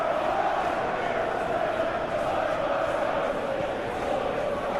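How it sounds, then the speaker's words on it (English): A football stadium crowd in a video game Champions League match between Chelsea and Barcelona keeps up a steady, unbroken roar of disgruntled noise, loud and continuous throughout. "Well, the crowd aren't happy."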